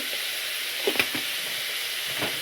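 Tomatoes sauté in a pan as turmeric powder goes in, a steady soft sizzle with a few faint scraping stirs, no talking.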